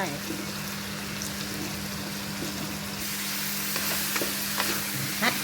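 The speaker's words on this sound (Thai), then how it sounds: "ลงไปแล้วก็พับผสมกันเข้าไปเลย" Cauliflower, carrot and white radish stirred into a pot for a Thai mixed-vegetable soup with minced pork, giving a steady close sizzle with soft scraping and clunks of stirring.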